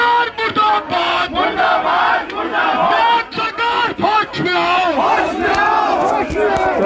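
A large crowd of protesters at Bihar Bhawan in Delhi chants slogans in loud unison. The rhythmic shouting is dense and continuous and stays close throughout.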